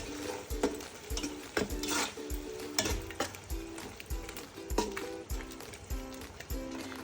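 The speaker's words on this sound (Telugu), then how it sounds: "బిర్యానీ మసాలా అన్నీ వేసుకొని బాగా కలుపుకోవాలి." Biryani masala is stirred into a sizzling pan for egg biryani, with a steady fry hiss under repeated rhythmic scrapes and clinks of the spoon against the pot, close and continuous.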